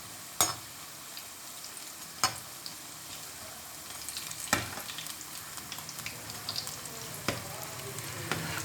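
Mixed vegetable pakoras fry in hot oil with a steady, soft sizzle as they are turned over. Occasional sharp scrapes and clicks of a utensil against the pan stand out, with no talking.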